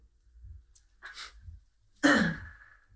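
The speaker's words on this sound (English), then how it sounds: "You blow your nose so weird" A sharp, breathy nasal blast bursts out after some quieter shuffling, one loud forceful blow that tails off into a rasping hiss.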